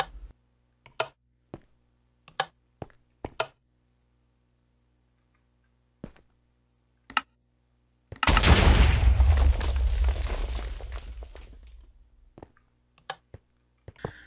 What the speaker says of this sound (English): Explosion plus explosion equals, well, more explosion.